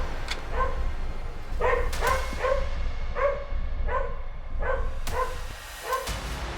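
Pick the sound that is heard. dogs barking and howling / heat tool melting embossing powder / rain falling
dogs barking and howling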